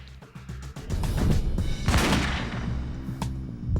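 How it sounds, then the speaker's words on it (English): Loud bursts of gunfire crack out in a staged shooting, a rapid cluster of sharp impacts followed by a dense, sustained volley that rings on to the end. "Larry George shot Janice in the chest before she can call the police"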